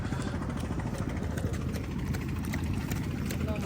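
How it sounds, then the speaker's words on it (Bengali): A boat engine running nearby, a steady loud rumbling drone that holds even throughout, with a voice talking over it. "এটা হচ্ছে বোটের ইঞ্জিন, এই ইঞ্জিন দিয়ে এই নৌকাগুলো এখানে রান করে।"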